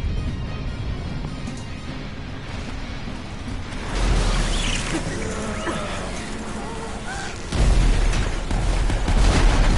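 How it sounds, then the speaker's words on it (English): Explosions in the video game Final Fantasy 7 Remake: a sustained, loud barrage of booms and rumbling blasts that swells around the midpoint and surges again near the end, with a dense crackling wash throughout. "Pretty explosions."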